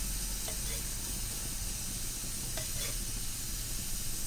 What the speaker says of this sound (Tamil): இப்போ நம்ம இதுக்கு நெய் ஊற்றிக்கலாம்.